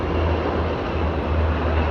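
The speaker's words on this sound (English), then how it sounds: "helicopters going by." A helicopter passes over a residential house and yard, its rotor and engine noise forming a loud, steady rumbling drone that holds throughout with no break.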